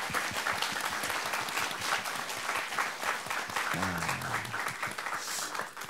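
A Korean TV studio audience applauds steadily, a thick, continuous patter of many hands clapping together without pause.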